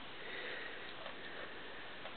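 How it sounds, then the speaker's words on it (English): A goat kid sniffs closely at a person's face, a soft, steady breathy snuffling held close up for about two seconds with no talking. "Look, let her sniff your face."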